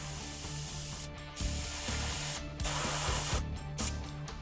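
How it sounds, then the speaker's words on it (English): A spray can releases paint onto a small miniature in several steady hissing bursts with brief gaps between them, close and moderately loud, over a faint mechanical hum. "now I'm going to spray a little bit from the side"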